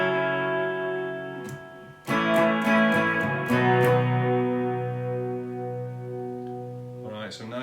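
Clean electric guitar drenched in chorus, reverb and tremolo plays the three-chord intro of a song, with ringing, sustained chords struck in a slow rhythm and left to shimmer.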